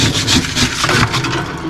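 A spatula scrapes built-up frost from an RV freezer during defrosting, a loud, close, rough rasping with rapid back-and-forth strokes over a short burst.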